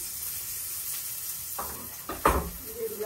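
Chopped onions and kochur loti (taro stolons) with shrimp frying in oil, a steady low sizzle with stirring scrapes that swell into louder bursts near the end.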